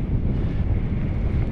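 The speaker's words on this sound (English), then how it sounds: "why's it got to be windy?" Strong wind buffeting the microphone at a wild campsite in the Lake District, a loud continuous roaring rumble with gusty fluctuations throughout and no voices.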